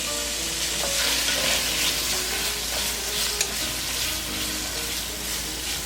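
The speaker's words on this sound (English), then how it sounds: "And then you just stir occasionally just to make sure that the meat starts to cook and it's going to brown" Sausage meat for a gluten-free pasta with broccoli and sausage sizzles steadily in a pan. A spoon scrapes and stirs through it now and then, with the frying loud and continuous and no voices.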